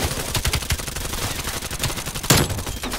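Gunfire rattles through a Call of Duty: Black Ops Cold War multiplayer match, bursts of rapid shots one after another, with a louder blast partway through, all close and continuous.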